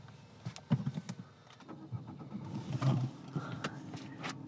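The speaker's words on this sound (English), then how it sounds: "Press the brake and start it." A car engine cranks and catches after the brake is pressed, a short rough burst of starting noise rising over a low idle rumble, close by with faint background movement and no talk.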